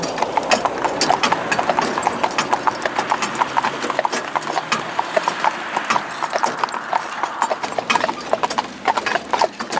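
Hooves of a single horse in harness clip-clop steadily on a hard surface, an even, close, continuous rhythm of sharp strikes with faint background rumble.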